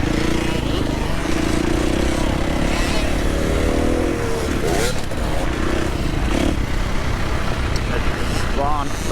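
Young riders on motocross bikes run a slippery indoor track at Lavanko, engines droning and revving as they pass, with someone talking over the machines the whole time.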